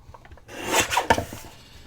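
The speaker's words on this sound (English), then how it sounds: "So I'm going to trim it off before I put my little staple in there." Quick rasping cuts trimming the top piece of a small matchbook-style paper notepad, a short burst of close, dry scraping strokes after a quiet start.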